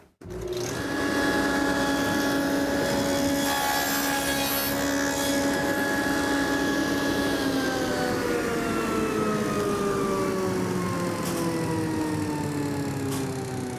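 Dado blade set spinning up and cutting a pass through a wooden board, a loud whining tone under the cut that then slowly descends as the blade spins down, close and continuous without speech.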